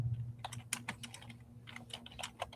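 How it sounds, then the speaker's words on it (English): Close, quiet typing on a computer keyboard, a steady run of light irregular key clicks over a low background hum, with no talking. "My typing."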